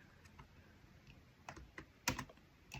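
Quiet typing on a computer keyboard during an ESP32 and OLED coding tutorial: a few sparse, faint key taps, then one sharper clack and a couple more presses.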